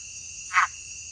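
A single short croak from a brightly colored frog hidden in vegetation at a resort near Puerto Vallarta, Mexico, close and distinct over a steady high insect drone.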